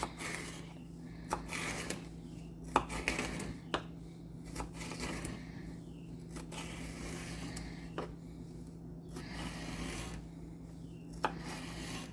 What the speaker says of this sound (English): And you're just going to dice it up.